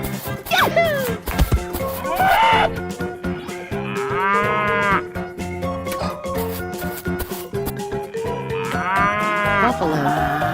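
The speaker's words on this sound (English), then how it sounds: "Cow." Cows mooing in a video game escape room, loud drawn-out bellows that rise and fall, repeated several times over upbeat game music and effects, with a voice briefly calling out.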